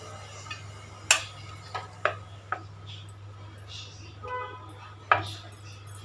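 Pizza dough being cut into two pieces on a board, a few sharp knife taps and knocks spaced irregularly against a quiet steady hum, close and distinct.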